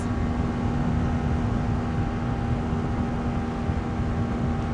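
A QJ Motor SRV 550 ST motorcycle accelerates uphill, its steady engine drone and rushing wind noise holding a constant loud level throughout with no speech.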